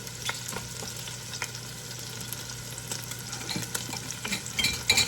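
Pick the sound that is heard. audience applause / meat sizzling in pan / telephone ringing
meat sizzling in pan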